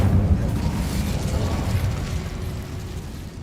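An Incendio fire spell in the Hogwarts Legacy video game, a loud low whooshing burst of flame that rumbles on and slowly fades over a few seconds.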